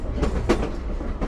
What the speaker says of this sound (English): This is the bike train that we're passing by.